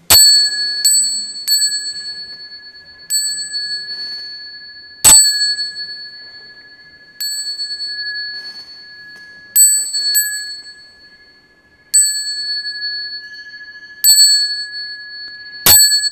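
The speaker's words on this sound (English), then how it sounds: "I'm going to ring the bell and we can do three bows" A small bell at the Berkeley Buddhist Monastery is struck ten times in a slow, uneven rhythm, each bright ring sustaining and fading in a quiet room, with two strikes noticeably louder.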